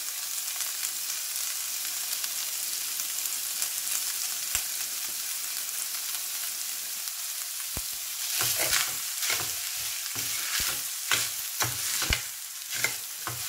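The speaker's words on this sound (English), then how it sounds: "you want to make sure that you keep stirring the rice" Jeera rice sizzles steadily in a pot as it is stirred, the frying hiss continuous throughout and joined later by a run of sharp scrapes and clacks from the spoon, close and fairly loud with no talking.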